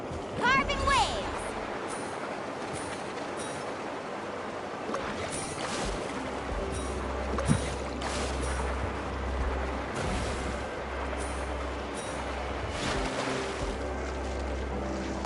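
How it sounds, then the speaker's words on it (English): A boat in Genshin Impact carves through ocean waves with a continuous rushing wash of water and wind, while a person talks over it. "Carving waves."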